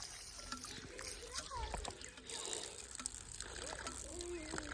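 Clear water trickles and gushes steadily outdoors in a rural Pakistani setting, with people talking over the flow throughout.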